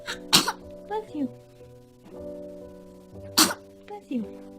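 A baby gives two sharp sneezes about three seconds apart, close and clear, with soft background hum and brief vocal sounds between them.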